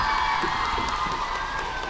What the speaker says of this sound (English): Please give them all round of applause